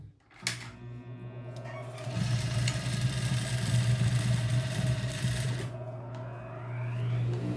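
A sewing machine stitches gathered fabric for a structured corset dress, its motor running in a steady, close mechanical whir after a few short starts.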